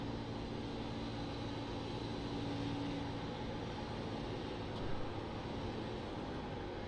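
A race car engine in the iRacing Xfinity Series at Fontana, running at partial throttle, gives a steady, unbroken droning roar with a low hum beneath it, distant and even, with no voices.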